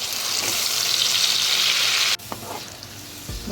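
Soaked mutton pieces hit a pan of hot oil with cloves and spices, setting off a loud, dense sizzle that cuts off abruptly, followed by quieter frying and a few stirring knocks.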